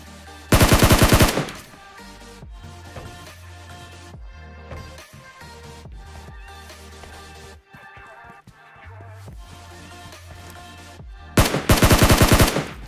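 AKM rifle fire in an online shooter video game: loud rapid automatic bursts open and close the span, with in-game sounds and quieter shots between them.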